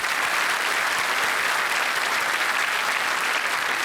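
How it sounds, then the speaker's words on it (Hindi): Loud, sustained studio audience applause on a TV quiz show set, a thick continuous roar of many hands clapping at a steady level throughout with no talk over it. "तालियों के साथ हम एक बार फिर आपका स्वागत करते हैं।"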